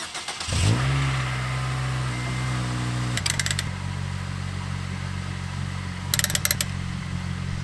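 An 8th-generation Honda Civic Si with suspension problems starts off, its engine humming steadily up close as it pulls away, with two short bursts of rattling mechanical clatter from the car along the way.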